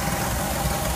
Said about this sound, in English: Overhead, straight six.